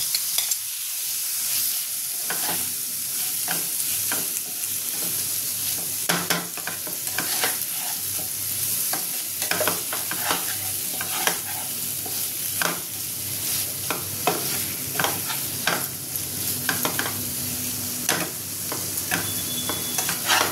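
Prawns fry in a pan of cooked-down spiced masala for a red curry, with a steady close sizzle and repeated scraping stirs of a spoon against the pan throughout.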